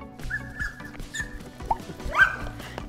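A dog yips and whimpers in short bursts, with a couple of sharper barks near the end, close by and moderately loud.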